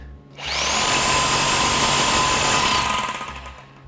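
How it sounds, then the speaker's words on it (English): Hammer drill boring a 4-inch-deep hole into a solid concrete wall, starting with a sharp spin-up and then holding a loud, steady, rattling whine for nearly three seconds before winding down. "We're going to drill a hole right now here, 4 inches deep."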